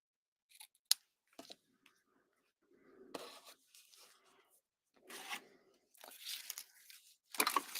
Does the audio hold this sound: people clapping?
no